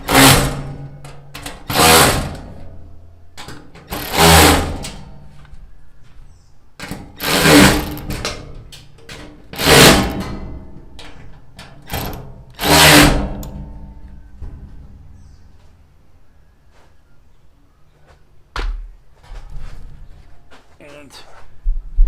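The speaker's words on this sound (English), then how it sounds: "I got this guy, this little Milwaukee ratchet. Works great." A small Milwaukee ratchet clicks in repeated bursts while working on metal art, each burst of rapid ratcheting separated by pauses, close and fairly loud, then fading to quieter handling noises.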